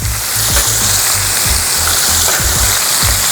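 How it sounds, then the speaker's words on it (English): Bacon sizzles steadily on a Blackstone flat-top griddle, a loud, dense frying hiss with soft pops and occasional scraping, no voices over it. "can see that bacon is cooking super fast"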